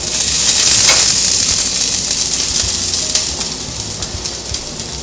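Shallots sizzle in a pan over medium heat, making a loud, bright, continuous hiss that eases slightly toward the end, with faint stirring taps and no voices.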